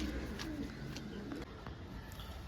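A Girebaj pigeon pair, a Phulshila pair shown at a bird market, coos in low burbling tones amid background chatter and market noise.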